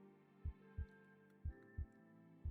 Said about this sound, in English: I put my ear to his chest to hear his heartbeat and breathing.